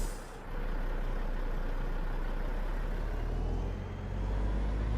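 Caterpillar diesel engine of a classic Kenworth W900 truck with an engine mod in American Truck Simulator, a loud, steady low rumble that dips briefly before building again, with no talk.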